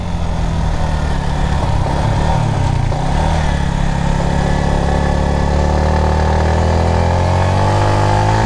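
A motorcycle engine labouring up a steep mountain road on the way to Kataw Falls in Pilar, Capiz, a loud, continuous low drone whose pitch rises steadily as it climbs under load.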